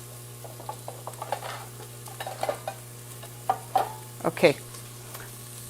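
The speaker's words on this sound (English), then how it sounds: "the reason I am kind of like sauteing my vegetables a little bit" Vegetables sautéed and stirred in a pot for caldo de albóndigas, with intermittent scraping and clinking stirs over a low steady hum and soft sizzle; a voice speaks briefly.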